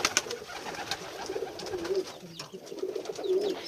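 Pigeons coo softly nearby, several low throaty warbles repeating over a faint background rustle.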